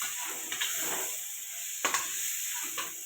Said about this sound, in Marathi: आता ही मटकी उकडलेली टाकून द्यायची याच्यात. आणि हिला पण मसाल्यात परतून घ्यायचं थोडस,